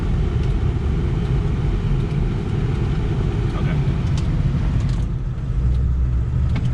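Steady low diesel rumble from a 2002 Ford F350 diesel 4x4 Lariat with manual transmission, idling up close with air conditioning off, continuous and even throughout with no talking.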